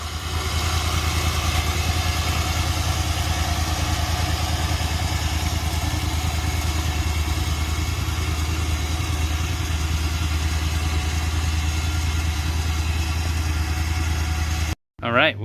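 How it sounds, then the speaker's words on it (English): A Kolpin winch motor spools out orange synthetic rope, a continuous low mechanical hum running steadily for about fifteen seconds before stopping abruptly, close up, with a person talking over it. "Winch cable, go."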